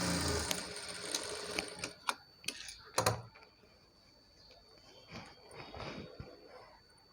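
A sewing machine stitches the side slits of a Punjabi dress, running in short bursts of rapid stitching broken by pauses and handling noises, close and moderately loud.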